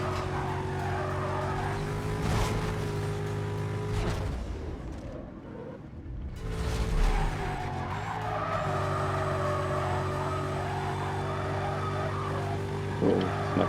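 A McLaren drifting in the street racing game Need for Speed Carbon, with sustained tire squeal and skidding over a droning engine, easing briefly midway before the slide and engine noise pick up again, with no talk.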